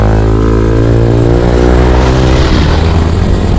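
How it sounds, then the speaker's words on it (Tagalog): A motorcycle engine revs loud and close, a strong continuous drone whose pitch climbs and wavers steadily with no talking. "Sa tuwing naririnig ko yung mga tampucho ng mga motor."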